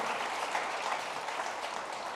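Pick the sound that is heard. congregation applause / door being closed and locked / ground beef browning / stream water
congregation applause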